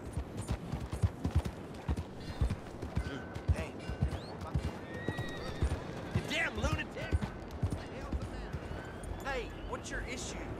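Horse hooves clip-clop steadily in Red Dead Redemption 2, a rhythmic trot running the whole time beneath game sounds and a voice talking over it.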